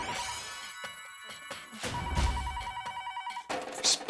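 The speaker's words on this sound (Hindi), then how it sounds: "बापूजी अरे भाई फोन उठा ना" A telephone rings insistently in a repeated trilling bell pattern, fairly loud and steady across several cycles, with a brief break near the end before it starts again.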